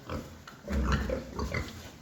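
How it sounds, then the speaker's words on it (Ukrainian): Piglets grunt and snuffle close by, a low, continuous chorus of short oinks with no talking. "Ось такі поросятка."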